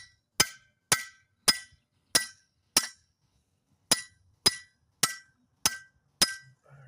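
A big chisel is hammered to free a stuck hub bearing on a 2014 Volkswagen, ten sharp metallic strikes in a steady rhythm with a short pause midway, loud and close in a quiet space.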